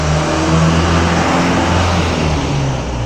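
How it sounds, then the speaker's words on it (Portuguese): Cars pass close by on a city street, with a loud, continuous engine rumble and revving and no pauses. "Às vezes atrapalha um pouco o som dos carros, né?"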